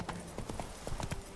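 Horse hooves trot in The Witcher 3: Wild Hunt, a brisk clip-clop of about a dozen close, even hoofbeats, with a faint game voice underneath.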